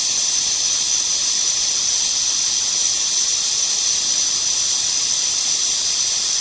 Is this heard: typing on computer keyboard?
no